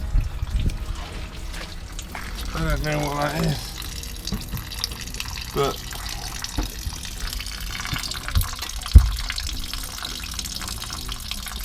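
Water trickling and dripping close by from a leak in a camper van, with intermittent splashes and a sharp drop near the end, as someone talks over it.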